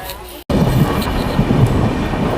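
Inside a sleeper coach of the North East Express, the train rumbles along with a steady low roar and rattling wheels, starting after a brief dropout.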